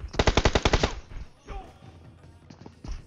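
A rapid burst of about eight loud shots rings out in the video game PUBG Mobile, then fainter, scattered reports follow and a voice speaks briefly.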